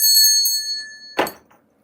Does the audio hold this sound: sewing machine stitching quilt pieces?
no